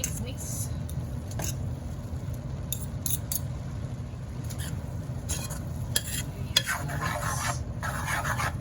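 Pancit noodles being stirred and mixed in a pan, giving a steady soft scraping and rustling with faint sizzling, with talk over it and some sharper scrapes and clinks near the end.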